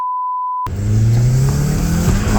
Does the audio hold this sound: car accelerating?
yes